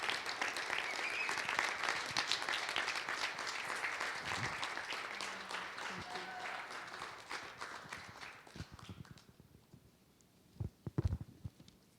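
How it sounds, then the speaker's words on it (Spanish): Congregation applause at a Sunday church service welcoming a woman to the pulpit, a loud, dense sustained wash of clapping that gradually thins and fades over about ten seconds, ending with a few scattered claps and thumps. "vamos a recibir con un fuerte aplauso a nuestra hermana Laura"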